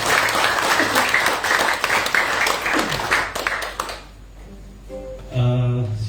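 A church congregation at an Easter service claps and cheers loudly for about four seconds in dense, sustained applause, then it fades and a sung or spoken voice follows.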